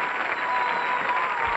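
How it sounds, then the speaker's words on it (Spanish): A crowd applauding a guest named Luis at a televised tribute show, continuous even clapping at steady volume with no voices standing out. "el aplauso para Luis"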